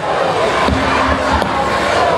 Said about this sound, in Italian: Applauso, forza, applauso